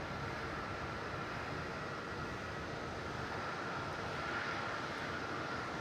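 An inbound airplane approaching Melbourne Airport makes a steady, distant broadband roar that holds level throughout, with no talking.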